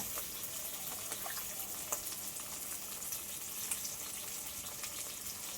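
Chopped onion sizzles in hot fish oil in a pan, a steady close crackle and hiss with small pops scattered across it and no talking.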